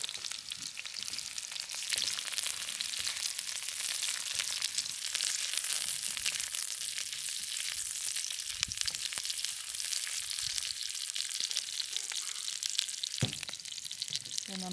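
Red pepper fries in a pan for Buddha's Delight, a Chinese tofu dish, making a continuous close hiss and sizzle with a few soft clinks and stirring sounds, and no voices.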